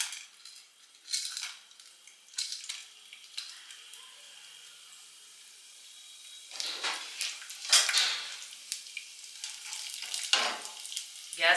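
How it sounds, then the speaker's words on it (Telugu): Chana dal (split Bengal gram) frying in two spoons of oil in a pan for sambar, a close, steady sizzle with bursts of crackling and scraping stir sounds that swell loudest in the second half, with no voices. "ఇవి 1 నిమిషం వేగనిద్దాము."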